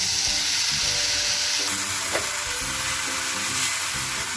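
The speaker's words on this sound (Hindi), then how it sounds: "2 मिनट तक अच्छे से हमने इसे चलाया और फ्राई कर लिया" Veg Hakka noodles with sauces stir-fry in a hot pan, a dense, loud sizzle running throughout with repeated scraping and tossing of the spatula against the metal, close up and with no voices.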